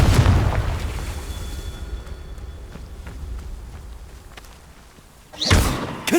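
Confringo fire spell blasts burst in Hogwarts Legacy, one heavy booming impact at the start that decays through a rumbling tail, then a second sharp blast near the end.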